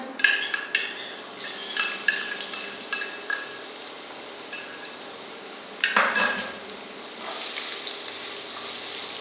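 Ginger sautéing in a pan for masala vegetable upma, heard as a steady soft sizzle under repeated metallic clinks and scrapes of a spoon against the pan, with a louder clatter midway and no talk.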